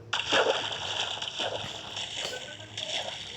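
Water splashes and sloshes as someone goes into it, a series of close, bursty splashes over a steady watery background.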